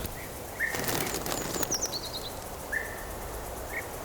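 A sound effect of a gathering flock of birds: a short burst of wing flapping, surrounded by scattered chirps and tweets over a soft, steady background.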